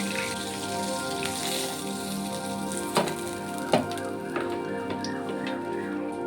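Fish sizzles in mustard oil with a steady, moderately loud crackle, like rain on a surface, broken by a couple of sharper pops or clinks near the middle.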